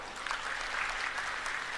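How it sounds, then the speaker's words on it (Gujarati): Applause from a crowd at an Aam Aadmi Party booth workers' rally in Gujarat, a dense, even patter of clapping that stays loud across the brief stretch. "એકવાર આપના માટે તાળીઓ થઈ જાય દોસ્તો."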